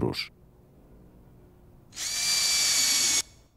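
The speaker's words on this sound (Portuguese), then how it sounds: "pré-perfure e aperte-os com dois parafusos autoperfurantes" A power drill whirs steadily for about a second, driving self-tapping screws into polycarbonate awning profiles on a timber frame, preceded by a brief tool noise at the start.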